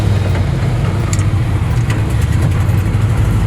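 A 1970 Chevrolet C20 pickup's engine runs steadily while the truck drives, a loud, continuous low rumble with no talk over it.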